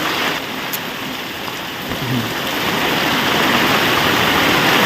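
Heavy rain lashing down in strong wind in a village near Botad, a loud, steady hiss and roar that builds slightly toward the end, with no voices.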